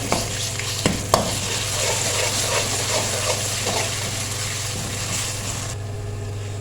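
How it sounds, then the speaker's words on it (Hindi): Onions frying with ginger garlic paste in a pan, steady sizzle with occasional stirring clanks, close and moderately loud. "इसको थोड़ा सा करेंगे फ्राई।"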